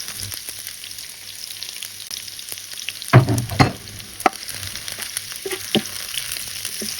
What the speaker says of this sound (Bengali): এগুলো একদম লাল লাল করে ভেজে নিতে হবে।